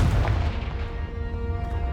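A Confringo spell blast in Hogwarts Legacy hits with a heavy, booming burst, followed by a low rumbling decay over about two seconds.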